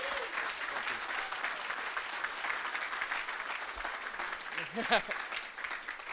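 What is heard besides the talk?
audience applause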